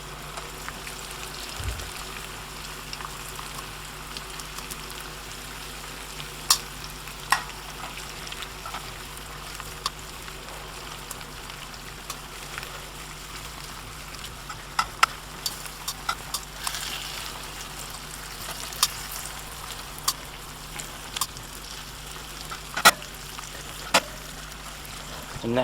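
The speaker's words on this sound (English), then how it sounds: "It just helps with the cooking down of the tomatoes." Tomatoes cooking down in a pot on a Kamado BBQ give a faint, steady simmer with scattered soft pops and clicks throughout.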